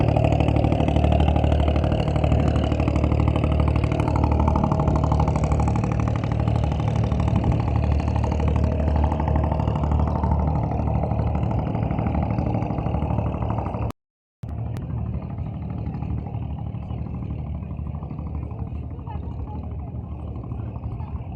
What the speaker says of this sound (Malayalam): കണ്ടോ അവിടെ ബോട്ടുകളൊക്കെ വരുന്നേ.